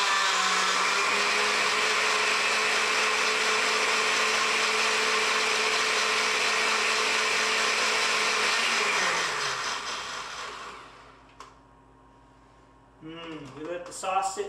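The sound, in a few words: blender mincing onion for salmon sauce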